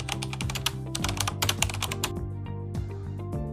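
A PowerShell command is being entered on a computer keyboard in Windows 11, with rapid and uneven clusters of close key clicks over several seconds, trailing into a few lighter, scattered taps at the end.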